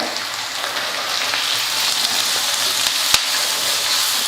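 Steady loud sizzling of onion and grated carrot frying in a hot pan, continuous crackle throughout with a single sharp tap near the end.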